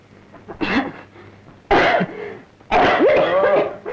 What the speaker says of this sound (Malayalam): എന്തിനു ഞാൻ ചുമച്ച് ചാകാൻ പോകുന്നേ?